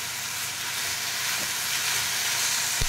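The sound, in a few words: garlic frying in a pan on low flame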